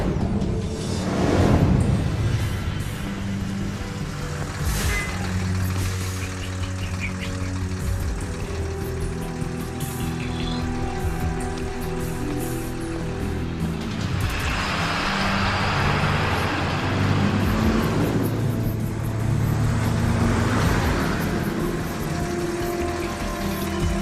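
A truck drives along a road, its engine rumbling steadily and fairly loud throughout, with swells of motor and road noise and a hiss like an air brake.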